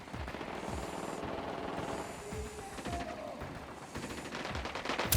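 Sustained automatic gunfire in Ghost Recon Wildlands, dense bursts of rapid shots with sharp transients running through the whole span, loud and close, with brief lulls between volleys.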